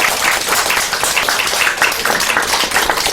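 A church congregation claps in welcome, a loud, close, dense wash of applause that continues evenly throughout.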